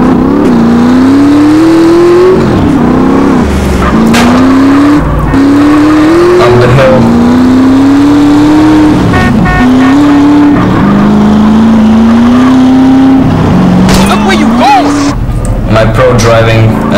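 A car in GTA San Andreas driven hard, its engine revving up repeatedly in rising sweeps with brief drops between gear shifts and some tire noise, loud and close, with a voice talking over it.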